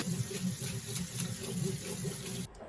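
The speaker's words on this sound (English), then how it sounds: "drain and rinse it" Soaked glutinous rice being rinsed under a running kitchen tap, a close, steady splashing gush of water with small rhythmic variations, cutting off abruptly near the end.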